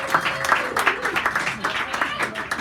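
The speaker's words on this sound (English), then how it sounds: "Give him another round of applause." Clapping rises from a small audience at a poetry hour in Sacred Grounds Cafe in San Francisco, brisk, close applause with a voice talking over part of it.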